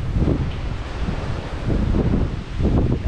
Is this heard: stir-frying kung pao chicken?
no